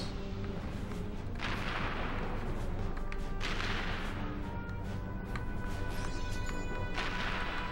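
A turret in the Ratchet & Clank game blasts at enemy ships, loud booming shots in a few heavy bursts over a steady rumbling background, with no talk.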